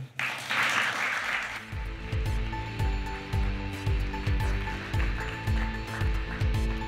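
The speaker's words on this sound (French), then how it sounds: "Merci de faire un tonnerre d'applaudissements à Paul-Jean Tavernier et Martial Barrault" A studio audience on a French TV set breaks into a short, loud burst of applause for two arriving guests, then fades after about a second and a half into a steady rhythmic musical beat.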